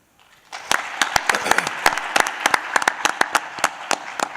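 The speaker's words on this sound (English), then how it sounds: "Any family or friends here in attendance that we could give a round of applause to as well?" A small crowd at a school board meeting breaks into a round of applause, individual sharp claps standing out clearly in an uneven, lively rhythm after a near-silent start.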